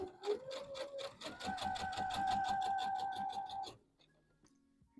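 A sewing machine runs a stay stitch around a dress collar, a fast, even rhythmic clatter of stitches with a tonal whine that runs for several seconds, then stops abruptly into quiet.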